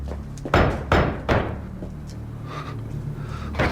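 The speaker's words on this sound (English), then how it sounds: "What is that knocking?" Three heavy, evenly spaced knocks land on a wooden door in a staged performance of Shakespeare's Macbeth, each one a loud, resonant thud, followed by fainter background rumble.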